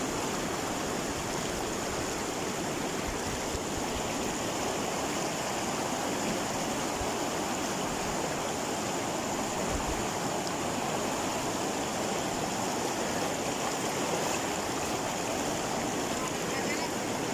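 A waterfall near a river where tilapia are netted, a steady broadband rush of falling water filling the whole stretch, even and continuous, with faint low thumps underneath.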